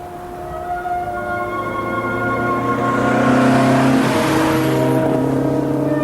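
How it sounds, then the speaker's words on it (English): Austin-Healey cars racing downhill toward Cortina in the Dolomites in pursuit of three Porsche 356s: loud, close engines rising in pitch and swelling as a car draws near, then holding a strong roar, with no talk. "Tony Barranco and Kevin Law are racing down the hill towards Cortina in hot pursuit of a group of 3 Porsche 356s from Spain"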